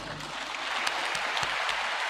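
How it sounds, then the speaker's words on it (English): Audience applause for the special guest of honor at a military pipping and commissioning ceremony, a steady, dense roar of many hands clapping, moderately close and sustained throughout, with a few sharper individual claps standing out. "A resounding applause for the special guest of honor."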